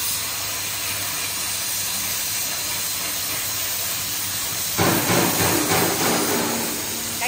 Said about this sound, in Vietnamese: Bây giờ mình sẽ bật cái cánh khuấy lên cho các bạn xem là cánh khuấy nó bật nào nhé